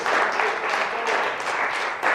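A church congregation claps together in a dense, sustained burst that stays loud and even throughout, with the room filled by many hands at once.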